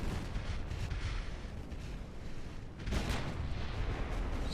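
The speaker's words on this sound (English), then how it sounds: "We have already got some torpedo hits." Torpedo hits striking a battleship in a naval warfare video game: dense rumbling explosions and booming impacts layered over continuous battle noise, swelling louder near the end.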